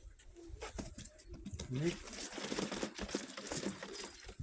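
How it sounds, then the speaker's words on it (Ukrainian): A Krymaky pigeon gives a few quiet, low coos close by, mixed with rustling and light tapping, while someone talks softly over it. "А такий голубочок."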